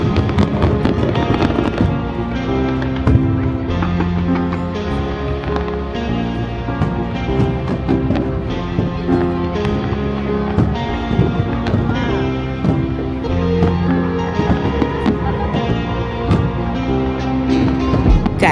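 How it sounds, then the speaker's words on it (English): Dense, continuous New Year's fireworks just past midnight in Abu Dhabi, bursting and crackling, loud and close, with overlapping booms and pops filling the whole stretch without pause. "It's finally past midnight and the fireworks started off."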